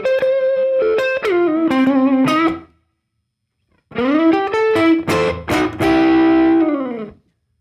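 Two phrases of overdriven electric guitar on the neck pickup, warm and rounded, playing a blues lick with bending and sustaining notes and a short silent gap between them.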